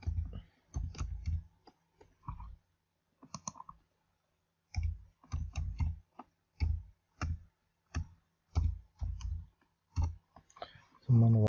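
Computer mouse clicks on website buttons come as many sharp, brief taps in uneven clusters, close and fairly loud, with short pauses between bursts.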